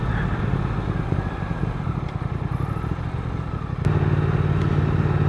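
A 2021 Triumph Speed Twin motorcycle is ridden on the road, its engine rumbling steadily with a low throb that steps up in intensity near the end, heard alone without speech.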